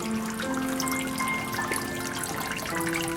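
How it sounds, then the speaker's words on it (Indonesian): Water trickling steadily as it circulates through a silkworm (tubifex) container lined with water hyacinth, a continuous close splashing flow with no pauses. "harus dilakukan adalah pemberian sirkulasi air seperti ini"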